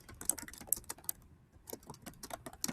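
Rapid typing on a computer keyboard, a busy run of close, crisp key clicks with a brief pause in the middle before the tapping resumes.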